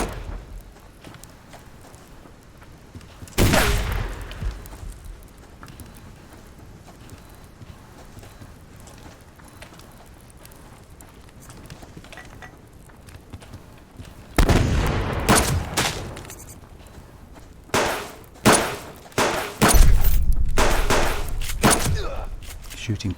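Sharp, loud gunshots ring out in the clip: a single blast early on, then a cluster of several irregular shots in the latter half, separated by a long stretch of quiet rustling.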